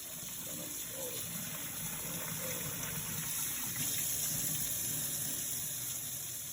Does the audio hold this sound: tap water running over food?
yes